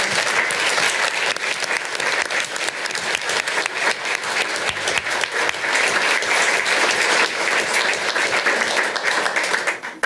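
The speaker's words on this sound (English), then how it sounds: "Would you please give a round of applause to these young people?" Sustained applause from a room full of people, dense clapping at a steady level for about ten seconds.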